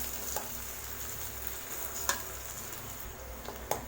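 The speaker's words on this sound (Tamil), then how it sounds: "சேர்த்துட்டு வெங்காயத்தை நல்லா வதக்கி விட்டுருங்க" Chopped onions fry in a pan for egg thokku under a constant low sizzle, with a few sharp spatula clicks from occasional stirring and no talk.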